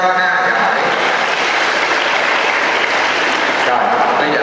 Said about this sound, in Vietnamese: Chính xác, một tràng pháo tay coi cho con nha.